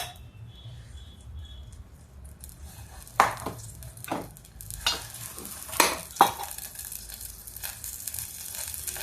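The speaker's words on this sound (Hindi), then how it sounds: "अब देखिए ये हो गया, मेरा घी गर्म हो गया है।" Ghee, about one spoonful, heats in a pan with a soft, continuous sizzle, broken by a few brief clacks and scrapes from a utensil against the pan.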